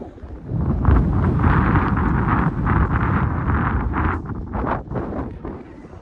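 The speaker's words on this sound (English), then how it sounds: "Sorry about the wind." Strong gusts buffet the microphone on an exposed hilltop at Edale Rocks on Kinder Scout in the Peak District, a loud, rough, roaring rumble that surges and dips for several seconds with no speech.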